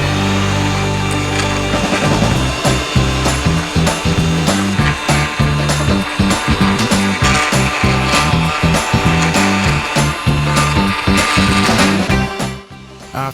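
An Ego battery lawn edger and leaf blower work a lawn edge, a loud, close, sustained motor whine with rapid rhythmic chopping pulses that runs almost nonstop before cutting off at the end.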